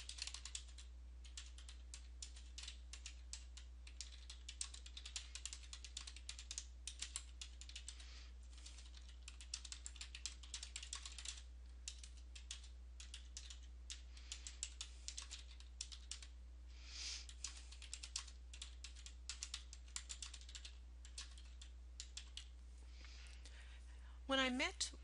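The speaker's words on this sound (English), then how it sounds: "you're going to be able to hear me typing in that detail area" Rapid clicking of keys on a computer keyboard, bursts of steady typing with short pauses, close and fairly quiet over a low electrical hum.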